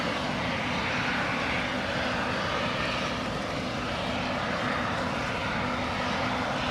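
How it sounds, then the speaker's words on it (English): A Boeing 767's auxiliary power unit runs on an East Midlands Airport cargo ramp, a steady, continuous turbine roar with a faint sustained whine, constant in loudness throughout and heard alone without talk. "That's definitely that 767's APU."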